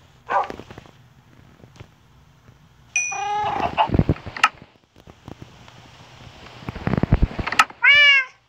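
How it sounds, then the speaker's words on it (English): A chicken in the Minecraft video game clucks in several short bursts, mixed with other creature cries such as a meow-like call and scattered clicks and footsteps. "oh look, there's a chicken."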